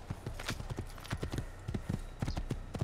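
Rapid, rhythmic hoofbeats of a galloping white horse in the video game Assassin's Creed, clip-clopping steadily and fairly close throughout, with no talking.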